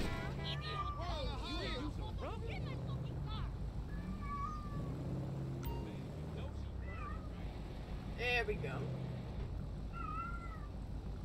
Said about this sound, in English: y'all can hear my cat going crazy in the background.